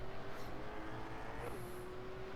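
A race car engine in the iRacing sim, heard quietly as a steady held tone that dips briefly midway, like a gear change, then carries on at a similar pitch.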